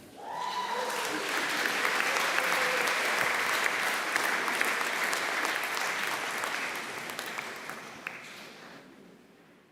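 A graduation award ceremony audience claps in a full, sustained round of applause that swells, holds steady, then gradually fades toward the end, with a brief voice at the start.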